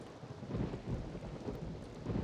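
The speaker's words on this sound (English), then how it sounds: "And it's raining." Steady rain with rumbling thunder fills a theme park scene in the video game Rollercoaster Tycoon 3, a continuous low roar with rolling swells and no talking.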